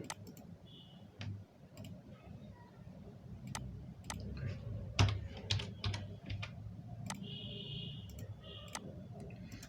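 Image tags being typed on a computer keyboard, irregular bursts of soft key clicks close up, with a quiet background hum and occasional faint tones.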